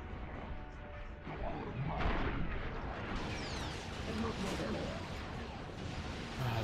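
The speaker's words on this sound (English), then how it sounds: "Ah, the shooting through the fucking walls." Sustained gunfire tears through walls in the PS3 shooter Resistance: Fall of Man, a dense, loud barrage of overlapping shots and crashes that keeps going without a break.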